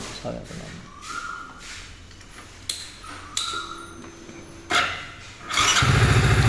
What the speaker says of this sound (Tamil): ஸ்டார்ட் ஆகி நல்லா ரைஸ் ஆகுது, ஆஃப் ஆயிடுச்சு.